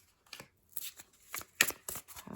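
Oracle cards from an Angels and Auras deck being shuffled by hand, several quick papery riffling bursts with short pauses between them, close and fairly quiet.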